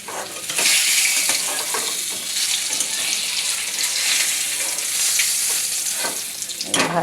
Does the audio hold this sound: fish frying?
yes